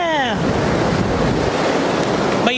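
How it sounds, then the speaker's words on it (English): Ocean surf on a beach in Cancun, Mexico, rushes steadily as waves break and wash in, loud and close with heavy wind noise on the microphone and brief faint tonal sounds at the start and end. "It's like it comes in waves and crashes."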